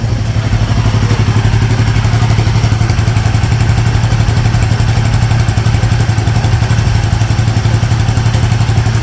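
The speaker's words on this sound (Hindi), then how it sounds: "अब मैंने बाइक को स्टार्ट करा है तो इसकी थ्रॉटल की आवाज़ आपको सुनाती हूँ" A 2024 Royal Enfield Himalayan 450 motorcycle engine runs close by with a loud, throbbing idle and steady rhythmic pulsing throughout, no other sounds.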